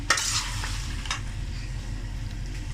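Lahori mutton karahi frying in a pan, a close sizzle with scraping stirring strokes at the start and again about a second later, then softer steady frying.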